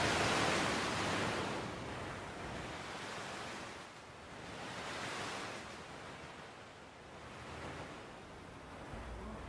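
Ocean waves surge and recede on a beach in broad, roaring swells, a continuous wash of surf and wind with no voices.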